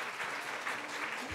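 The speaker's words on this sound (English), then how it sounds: "Let's clap for them again." An audience at a book event claps for two writers, a brief, fairly faint patter of steady applause from a room of listeners.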